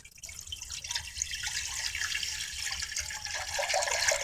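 Water pours steadily into a 4G63 engine oil pan, a continuous splashing trickle that starts abruptly and grows slightly fuller and louder toward the end, close by with no talk.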